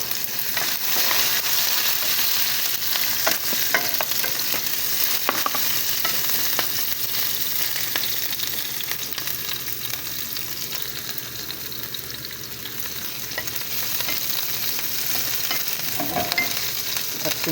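Onion sautéing with browned garlic in a pan for callos, a steady close sizzle and crackle with occasional scrapes and stirring clicks, running continuously without talk.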